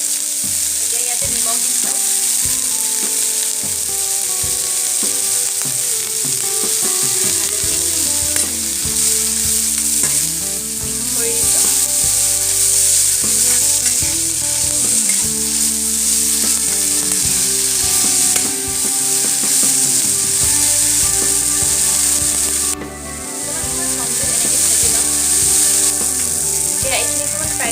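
Parijat (shewali) flowers fry in oil in a pan, a continuous loud sizzle with occasional stirring scrapes, while someone talks over the cooking.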